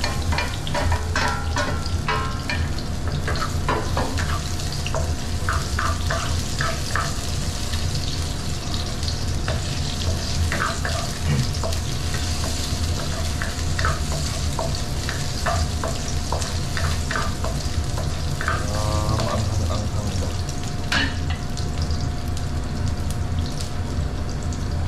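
Onion, ginger and chili sautéing in a pan with coconut milk to follow, a loud continuous sizzle close by with scattered stirring clatter and small scrapes throughout, no talking.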